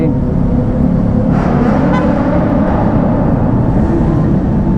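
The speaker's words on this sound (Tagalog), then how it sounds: "Busina lang tayo kasi" A steady car horn blares continuously under loud traffic and engine rumble in the Kaybiang Tunnel, Cavite, with brief tonal bursts rising over the constant din.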